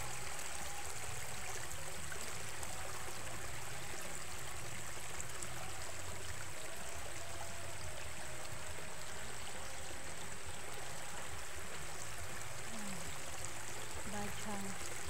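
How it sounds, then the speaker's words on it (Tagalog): Water flows over a small falls-like stretch of stream, a soft continuous rushing and trickling heard from a little distance, fairly faint, with no voices. "agos ng tubig yan"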